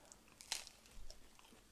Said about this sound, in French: Ça croustille, hein.